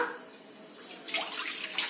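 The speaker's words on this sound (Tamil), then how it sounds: "கடாயை வச்சாச்சு, தண்ணி ஆட் பண்ணிடலாம்." Tap water runs into a pan for pasta, starting faint and rising to a louder, splashing pour partway through, close with no talk.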